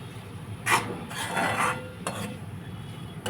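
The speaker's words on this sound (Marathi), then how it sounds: "आपण हलवून घेऊ." A spatula rasps and scrapes through jawla, small dried shrimp, and beans in a pan over high heat, a few close rough stirring strokes in quick bursts with no talking.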